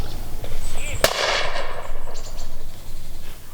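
A single sharp shotgun blast cracks out mid-clip, loud and close, amid outdoor commotion and a voice calling around it, during a duck and pheasant hunt in Mykolaiv Oblast, Ukraine.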